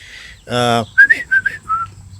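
A person whistles a few short, sharp notes in quick succession after a brief buzzy sound, close and clear.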